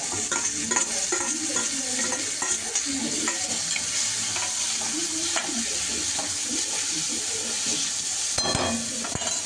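Tomatoes and coriander sizzle and fry in a pan while being stirred, a continuous close hiss broken by scraping and clinking of the spoon against the pan, with no talking.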